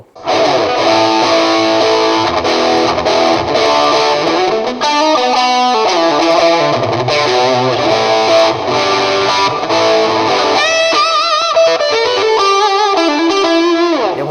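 Heavily distorted electric guitar through an M-VAVE Cube Baby multi-effects unit with added reverb plays a continuous riff with fast lead runs, loud and saturated, with a reverberant tail around the notes.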